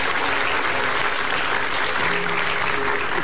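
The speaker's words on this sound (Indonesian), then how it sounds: "kasih tepuk tangan dulu buat mereka berdua." An audience bursts into steady, dense applause that stays loud and even, a continuous wash of many clapping hands with no pauses.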